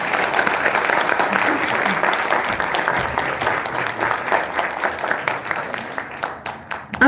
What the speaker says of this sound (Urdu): ایک دفعہ اور تالیاں ان کے لیے.